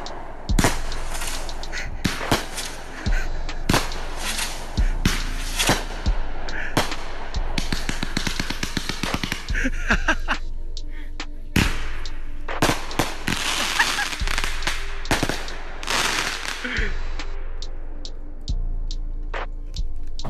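Fireworks and firecrackers bursting at night in a series of sharp, loud bangs, some spaced apart and some in rapid crackling runs, echoing through the neighborhood with faint background voices.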